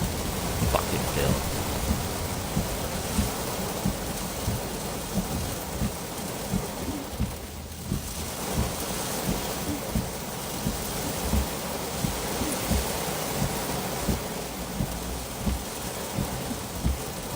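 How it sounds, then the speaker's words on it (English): Steady rain falls outside, a dense continuous patter with occasional low rumbles like distant thunder, heard throughout without a break. "It's raining outside."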